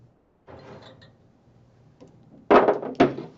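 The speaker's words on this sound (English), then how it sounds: "Oops, knocking stuff over too." Objects knocked over on a cluttered pottery glazing workbench give two loud, close clattering thunks near the end, following quieter handling noises.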